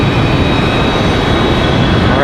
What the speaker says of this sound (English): the A321 back to Atlanta. Another fantastic looking at Delta departure.